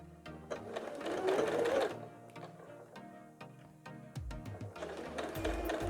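A sewing machine stitching a fabric face mask, its rapid mechanical clatter rising in bursts as the fabric is turned along a curve, with short pauses and light clicks between runs; no talking.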